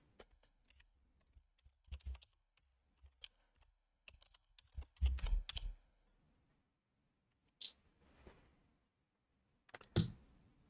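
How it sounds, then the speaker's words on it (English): Computer keyboard typing at a desk, sparse clicks and short bursts of keystrokes with pauses between, faint and close. "we type in"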